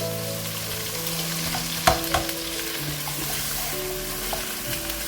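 Minced meat fries in a pan after salt goes in, a steady close sizzle of hot oil with a few sharp spatula clinks and stirring scrapes over a background music bed.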